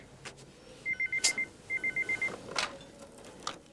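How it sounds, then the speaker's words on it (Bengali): A telephone rings in a quiet room indoors, two quick bursts of rapid electronic trilling pulses separated by a short pause, moderately close, with a few soft knocks around it. "কার ফোন আবার?"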